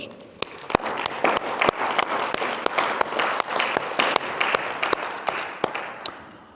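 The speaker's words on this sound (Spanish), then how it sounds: "Damos un aplauso al Señor." A church congregation claps for the Lord in steady, rhythmic applause, many hands striking together in a fairly even beat, moderately loud and close, with no voices over it.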